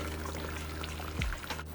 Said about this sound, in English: And then I'm carefully going to pour in the chicken stock.